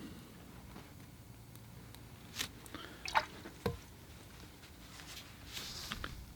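Faint, sparse flicks and spatters of watercolor paint land on paper, a few soft wet taps scattered irregularly over a quiet background.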